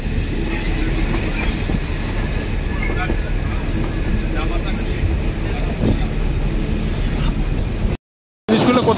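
Toy train in Ooty rolling past tea gardens, wheels squealing steadily on the rails with a constant loud rumble, then a brief cut to near-silence at the end.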